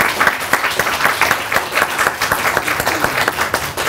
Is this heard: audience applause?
yes